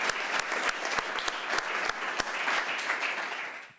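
Sustained conference audience applause, dense clapping from a large crowd that holds steady and then tapers off at the end.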